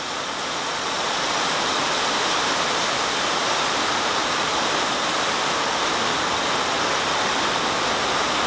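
Steady heavy rain pours through a thunderstorm over Coeur d'Alene, Idaho, a dense continuous hiss filling the whole stretch at constant loudness, with no voices and no distinct thunderclap standing out.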